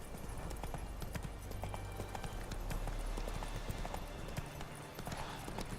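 Horse hooves clip-clop steadily in The Witcher 3 video game, a continuous rhythmic trot at close range over a bed of ambient game sound, with no voices.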